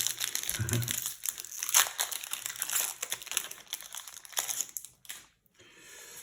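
Flesh and Blood trading cards from Monarch first edition packs flipped through and sorted by hand: quick bursts of crisp crinkling and rustling, loud and close, that trail off into near silence at the end.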